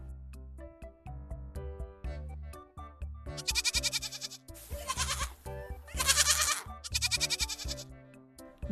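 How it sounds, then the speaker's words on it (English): A goat bleats in a series of wavering, tonal calls over a simple musical backing, each bleat bright and fairly loud, with short gaps between them. "Goat."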